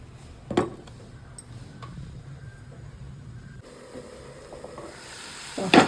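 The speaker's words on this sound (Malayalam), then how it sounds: "നല്ലപോലെ മിക്സ് ചെയ്ത് അടച്ച് വെച്ച് 5 മിനിറ്റ് ഒന്ന് വേവിക്കാം" Chicken filling cooks covered in a pan, giving a low, steady sizzle and hiss throughout, with a couple of brief clinks of the lid or utensil, the last near the end.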